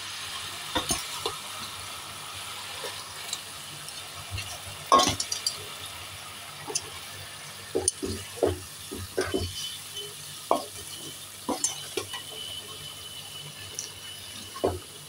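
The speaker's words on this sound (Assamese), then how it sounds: "এতিয়া মই বুটখিনি দি দিম" Chickpeas go into boiling masala in a pan for kabli chana ghugni, giving a run of stirring scrapes and soft bubbling sizzle, close and moderately quiet, with intermittent clinks and no talking.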